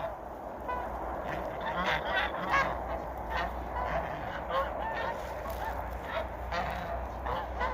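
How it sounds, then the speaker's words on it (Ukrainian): A flock of domestic geese honking continuously nearby in a village, overlapping calls in an irregular, chattering stream over a low background hum. "І пішли мої гусочки додому."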